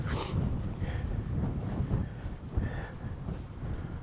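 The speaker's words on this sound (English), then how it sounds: "Oh, that wind!" Wind buffets the microphone on open moorland near Ogden Clough in steady, rumbling gusts, with a few brief higher whooshes rising above the constant roar.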